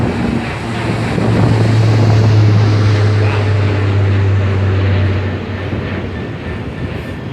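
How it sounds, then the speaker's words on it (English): A plane that has just taken off from Southampton Airport passes near Eastleigh. Its loud engine roar swells for several seconds amid wind buffeting on the microphone, then fades away. "Flyby plane just took off"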